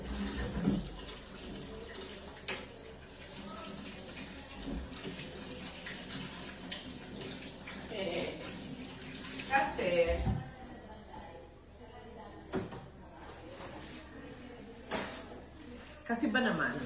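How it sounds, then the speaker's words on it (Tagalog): Running water from a household tap splashes in bursts as hands are washed at a sink before dinner, fairly faint and intermittent, with a person talking at times over it. "hugas lang muna akong kamay sa dali"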